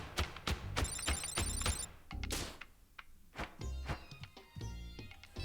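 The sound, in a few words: phone ringing in the video game Thirsty Suitors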